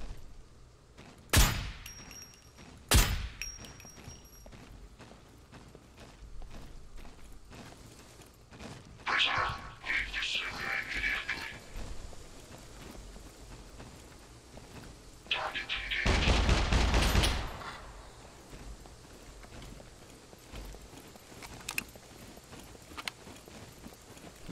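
Suppressed .50 BMG rifle fired in the zombie survival game SCUM: two sharp, isolated shots near the start, then softer scattered bursts and a louder cluster of impacts later, with no talking.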